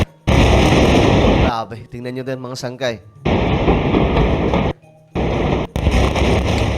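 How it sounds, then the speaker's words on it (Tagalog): Loud, sustained rumbling blasts from Israeli airstrikes on Gaza come in long broadband bursts, broken by brief gaps, while someone speaks in between. "Nabulabog ng sunod-sunod na pagsabog ang mga sibilyan"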